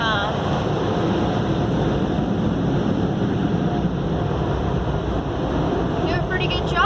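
Vortex jet dryer at an automatic car wash in Mount Airy, North Carolina, a loud, continuous roar of blown air heard from inside the car, with people talking over it.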